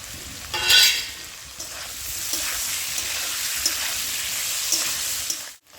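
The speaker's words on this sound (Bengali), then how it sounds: "কুচিয়ে রাখা পেঁয়াজ ও মাছের তেলটা একসঙ্গে ভেজে নেব" Chopped onion and fish oil frying together in a pan, a dense, steady sizzle with stirring scrapes throughout and one brief louder burst near the start, no talk.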